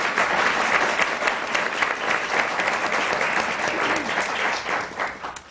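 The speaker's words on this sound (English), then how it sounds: "that applause is much deserved." A theatre audience applauds a playwright at a panel about the play Burn This, dense, steady clapping from many hands that holds strong throughout and eases slightly at the end.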